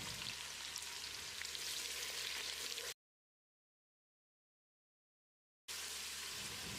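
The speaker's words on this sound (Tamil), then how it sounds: "வெங்காயம் நல்லா செவந்து வர்ற அளவுக்கு வதக்கணும்." Onions sizzle and fry in a pan for Muslim-style mutton biryani, a steady close hiss with a silent gap partway through before the frying resumes.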